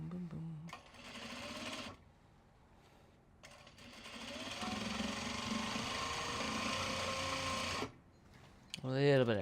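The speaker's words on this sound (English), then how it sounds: "A little bit extra stitching on this one because it is pretty thick." A sewing machine stitches through a thick Japanese fabric bag in fast, steady runs with a short pause between them, close and loud, ending with a brief mechanical whir.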